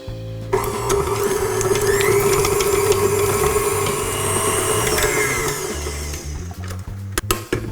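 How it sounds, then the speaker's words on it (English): An electric hand mixer beats 200 grams of soft unsalted butter for buttercream, a steady loud whirring motor hum that runs continuously for several seconds and then cuts out near the end, with no talking. "So I'm going to start by beating my butter."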